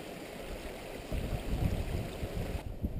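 A mountain stream in the hills above Osséja flows steadily nearby with a continuous broadband rush, soft at first and then swelling louder partway through, with no voices.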